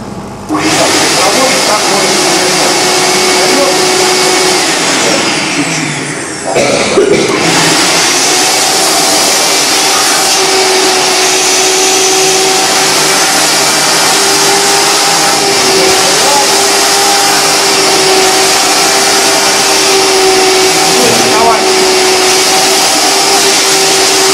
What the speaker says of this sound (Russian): Ну, моющий пылесос в данном случае.